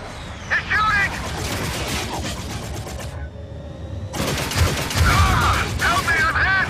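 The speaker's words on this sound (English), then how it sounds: "Got a live one! He's shooting!" Rapid bursts of gunfire from the Xbox 360 shooter Dark Void ring out loud and close in a dense exchange, pausing for a second near the middle before resuming, mixed with game voices.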